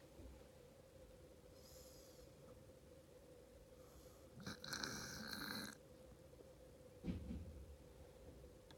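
A pet otter snoring while asleep indoors, giving a faint, soft rasping snort in the middle of the clip and a second brief one later, over a steady low hum.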